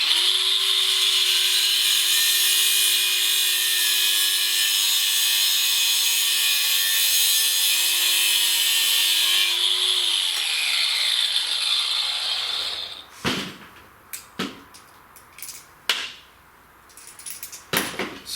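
A power cutter slices through a metal brake tube during a 14 bolt axle disc brake conversion, giving a loud sustained whine that winds down, followed by scattered clanks and taps as the piece comes free.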